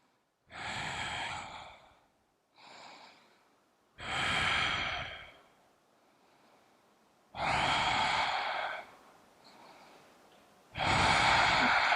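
Deep, slow breaths held through a yoga lunge, four audible exhales or sighs spaced a few seconds apart, close and fairly loud with quiet gaps between, no talking.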